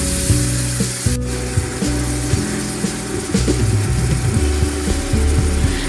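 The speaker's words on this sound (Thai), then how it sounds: "ผัดทุกอย่างรวมกันให้น้ำตาลละลายเข้ากันดี" Mung bean filling with sugar and water stir-fried in a pan for a Thai khanom tian filling, with steady loud sizzling and repeated scraping strokes of a spatula against the pan throughout.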